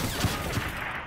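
Call of Duty Black Ops 3 gunfire crackles in a dense, noisy burst of overlapping shots with a few sharper low thumps, loud and close throughout the brief moment.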